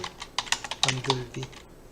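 Quick, crisp keystrokes on a computer keyboard, roughly a dozen close taps in an uneven rhythm lasting about two seconds.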